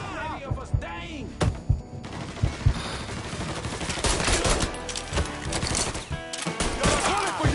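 Bursts of gunfire in the Mafia III Definitive Edition shooter, with repeated sharp shots and rapid volleys cracking through a firefight while voices shout over the shooting.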